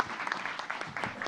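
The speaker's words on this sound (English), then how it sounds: "Please, participants, once again, give us a round of applause for our amazing speakers." An audience at an international student aquaculture conference claps for the speakers, with brief, dense applause from many hands filling the room at moderate volume.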